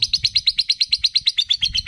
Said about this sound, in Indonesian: Burungnya luar biasa guys. Gacornya nggak ketulungan.